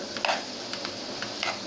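Pieces of meat sizzle in a cooking pot while a spoon scrapes and stirs them in several short strokes against the metal over a steady frying hiss.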